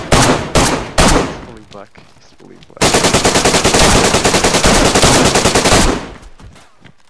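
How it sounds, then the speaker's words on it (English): Loud, sustained automatic gunfire from a full magazine emptied in DayZ, rapid rhythmic bursts that stop and start before one long unbroken stream, with a man swearing briefly over it. "I shot my entire mag at him, he's dead"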